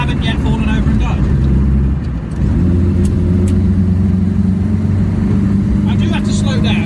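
A Reliant Robin three-wheeler drives and accelerates, its engine droning loud and steady from inside the cabin, with a brief dip midway before the pull resumes, constant road rumble beneath.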